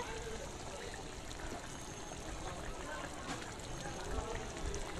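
Tamarind water pouring into a cooking pot for a Bengali fish-head dish, a steady trickling stream throughout, moderately close, with faint background noise.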